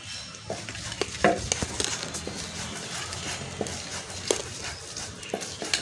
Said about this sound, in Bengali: এখানে শুটকি বাটা অনেক একটু কষ্টকর